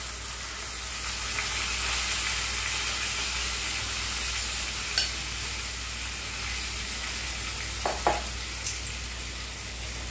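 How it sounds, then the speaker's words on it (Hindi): Rice and raw moong dal roasting in ghee with spices, a continuous bright sizzle with a few sharp clicks and scrapes of stirring near the end, close and steady with no talking. "तो अभी हमें चावल और मूंग दाल को अच्छी तरीके से भुनना है"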